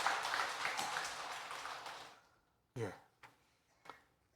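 A church congregation's applause fades out over a couple of seconds, followed by a few short bursts of a single voice speaking.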